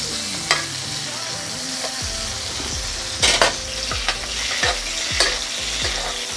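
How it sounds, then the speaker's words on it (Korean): Steady sizzling of steak frying in a pan, with repeated scraping spoon strokes and clinks as hot butter is basted over it. "버터를 끼얹어 줍니다"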